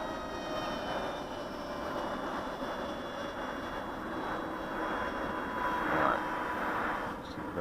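A Delta Wasp MK 2 RC flying wing plane makes a steady, fairly loud pass, its engine droning continuously with a slight swell in the middle of the run.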